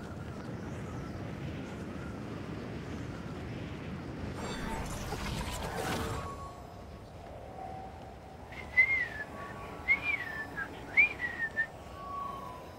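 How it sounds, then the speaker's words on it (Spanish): A person whistles a short melodic tune of several rising and falling phrases, close and clear, following a rumbling stretch of background noise during a late-night Fortnite stream. "Por si no habías entendido el chiflido."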